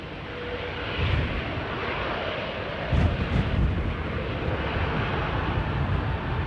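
An aircraft taxis at London Heathrow Airport, a steady broadband engine roar with wind buffeting the microphone and a slightly louder swell midway.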